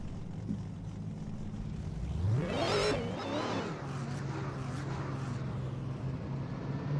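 V8-powered Nissan S14 drift car in a virtual drift racing game, engine revving and sweeping up in pitch as it accelerates, then settling into a steady droning note, fairly faint.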